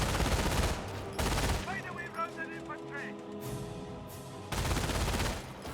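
An MG42 machine gun fires in the strategy game Company of Heroes, sending out loud, rapid bursts that start and stop, with other battle noise and a speaking voice between the bursts.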